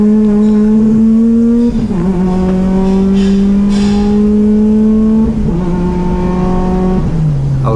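Race car at full throttle on a time attack lap, its engine note loud and steady with rising pitch through each gear, three brief dips where it shifts or lifts, ending on a lower, easing tone near the close.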